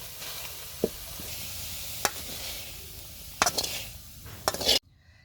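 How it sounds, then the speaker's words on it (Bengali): Pui shak greens cooking down in a pan until their water dries off, giving a soft, low sizzle punctuated by a few sharp clicks and scrapes of a utensil against the pan. "শাকের পানিটা খুব ভালোভাবে শুকিয়ে নিব"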